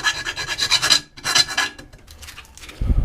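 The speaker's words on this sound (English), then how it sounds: "Use this file to the inside of it." Metal file rasping against the inside of a teapot being turned into a bird feeder, in two close, steady bursts of scraping strokes separated by a brief pause, with lighter scratching and a low thump at the end.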